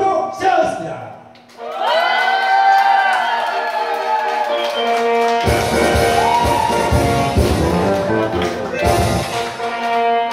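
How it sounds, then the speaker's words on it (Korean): Crowd at a 2019 fan club gathering in a Daegu nightclub cheering and clapping beneath loud music, with a host's amplified voice heard at the start. "여러분들의 힘찬 박수와 함성으로 시작하겠습니다."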